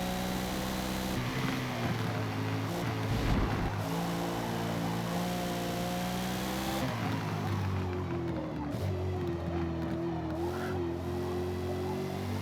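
Lexus race car in a racing video game, engine revving hard with rising and falling harmonic whine through gear changes, a brief tire squeal midway, steady and loud throughout with no talk.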